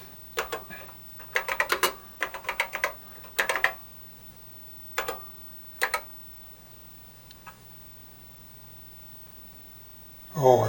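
Keys clack on a Radio Shack TRS-80 Model 1 computer keyboard in quick bursts of taps separated by pauses, close and crisp, then a short burst of speech at the very end.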